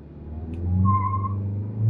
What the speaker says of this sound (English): Oh, we got wheel spin